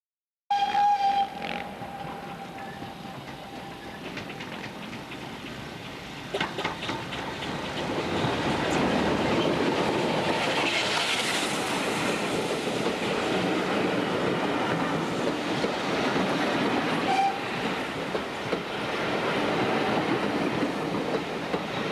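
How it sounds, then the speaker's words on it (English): A steam locomotive on the Churnet Valley Railway passes along the line, its rumble building from quiet to a loud sustained roar with clattering wheels and a brief whistle tone, lasting throughout. "here comes the train"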